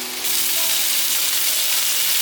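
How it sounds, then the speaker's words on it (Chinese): Tofu and bitter melon pan-frying slowly over medium-low heat give off a steady, close sizzle that holds evenly throughout, with no talking over it. "开中小火慢慢的煎，先不要急着去动它，让它煎定型之后再来翻面"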